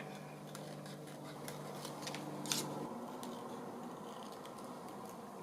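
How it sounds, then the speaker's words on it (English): Scissors cut small paper pieces for a travel journal, giving close, crisp snips and slicing strokes over a quiet room with a faint hum, with no talk. "Right, just cut these pieces."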